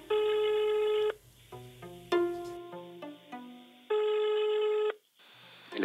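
Telephone line tones: a loud, steady ringback-style beep that cuts on and off, broken by a run of shorter dialing tones, with no voices.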